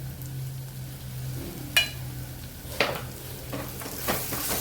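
Spiced vegetables for veg pulao sauté in a pan with a soft, steady sizzle, punctuated by a few spoon-on-pan clinks and stirring scrapes, close but fairly quiet, with no voices.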